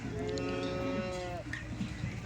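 A large dairy cow at a cattle market lets out one long, drawn-out moo, close and clear over a busy background murmur.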